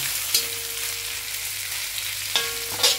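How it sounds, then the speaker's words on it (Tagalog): Shredded chicken meat drops into pancit frying in a pan, giving a steady close sizzle with a few sharp scrapes and bumps as everything is stirred. "Pwede na natin ilagay ang ating tahog na chicken meat na hinimay-himay ko kanina."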